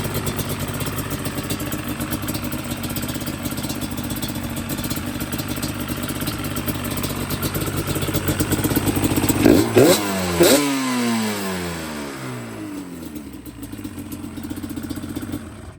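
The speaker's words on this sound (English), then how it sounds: "got me a Yamaha Banshee" Yamaha Banshee ATV engine running steadily at idle, then a few sharp revs near the end with falling harmonic sweeps as it settles back, close and loud, with no one talking.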